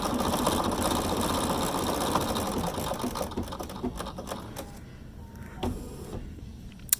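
A Bernina embroidery machine fitted with the Cutwork tool whirs and chatters rapidly and continuously as it cuts the angled corners of a fabric heart, loud at first and then easing off into sparse clicks.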